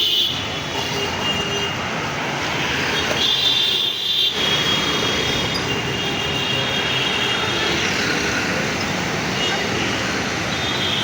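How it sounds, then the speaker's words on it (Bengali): A continuous loud rumble and rushing roar of a metro train arriving at Gandhi Bhavan platform in Hyderabad, steady throughout with a brief dip, heard over broad background noise. "বলতে বলতে একটা মেট্রো আসলো"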